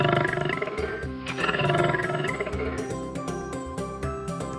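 A toy lion's recorded sound effect roars in a continuous, rumbling burst that swells and fades over several seconds, loud and close with no talking.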